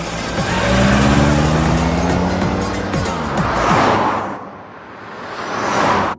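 A car drives past at speed, its engine roaring loud and close with a pitch that sweeps downward, tires hissing. The roar dips, then swells briefly before cutting off abruptly.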